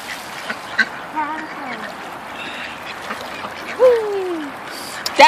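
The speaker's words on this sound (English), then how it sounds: "Just seeing nothing but a bunch of ducks fighting over food." Ducks fighting over food at a park quack in a noisy outdoor scramble, several calls rising and falling over steady background chatter and a splash or two.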